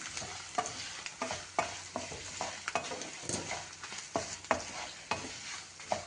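Turmeric stirred into a frying tempering for pulihora, with rhythmic scraping spoon strokes against the pan over a soft continuous sizzle, close and moderately quiet.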